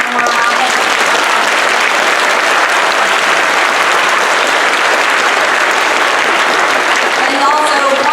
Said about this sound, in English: one more big applause for our veterans